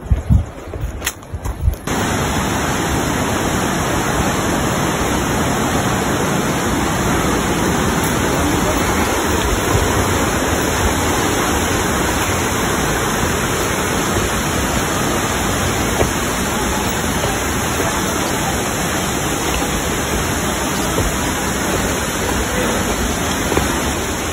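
Palale Falls waterfall in Malinao, Albay, a steady, loud rush of falling water that fills the whole clip after a brief rustle at the start, with no voices over it.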